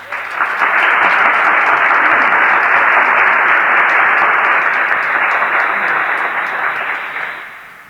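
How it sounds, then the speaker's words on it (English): A big round of audience applause at a pageant event as a speaker takes the stage, loud and continuous clapping that swells quickly, holds for several seconds, then fades out. "Ladies and gentlemen, a big round of applause for President Alvin Padilla."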